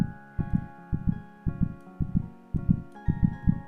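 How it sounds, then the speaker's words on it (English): Heartbeat sound effect playing during a live stream, a steady lub-dub thump repeating about every half second, low and moderately loud with faint background music underneath. "I increased the heartbeat."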